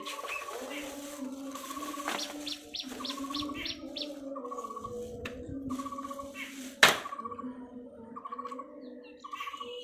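Many birds perched on ropes strung around a rooftop give steady chirps and tweets along with pigeon-like coos over a low background murmur, with one sharp knock partway through.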